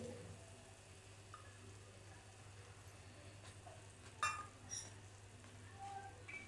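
Roasted peanuts going into upma cooking in a pan, a low steady sizzle with a few light clatters and taps partway through, quiet and close.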